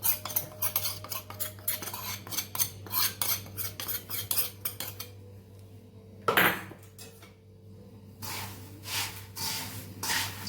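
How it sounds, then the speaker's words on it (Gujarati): A spoon scrapes and clatters repeatedly against a metal pan while mixing hot puffed rice with masala, in quick, uneven strokes, with a sharper knock midway and a breathy sound near the end. "ગરમ હોય એટલે ચમચીથી મિક્સ કરું છું"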